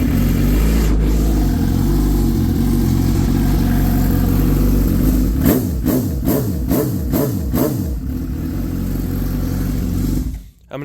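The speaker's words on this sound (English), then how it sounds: "Marcus Ham's bike, the Highlighter bike, is running" A dirt bike's engine runs loud and close at a steady idle throughout, with a few quick throttle blips rising and falling in the middle before it cuts out near the end.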